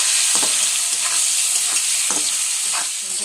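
Paneer frying in hot oil while being stirred for a Bengali potato-and-paneer dish gives a steady, loud sizzle, with soft stirring scrapes here and there and no voices.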